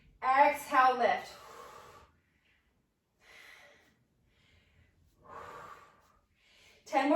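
Several breathy exhales during a cardio chair yoga exercise with dumbbells, some with a voiced, huffing edge, separated by pauses of near silence, heard close up.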